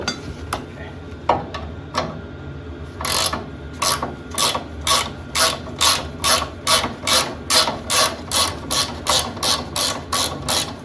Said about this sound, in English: I'm going to thread it in as far as possible